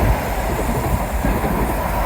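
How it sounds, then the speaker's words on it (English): A train rolls past close by, producing a loud, steady rumble with a clattering roar that holds evenly for the full two seconds. "I hear a train."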